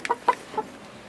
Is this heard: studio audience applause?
no